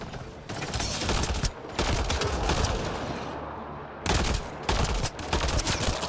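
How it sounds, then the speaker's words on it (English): The Pathfinder gun in the video game Mass Effect Andromeda fires in loud, rapid bursts of gunfire with short pauses between them, close and intense. "Alright, let's try this Pathfinder gun out."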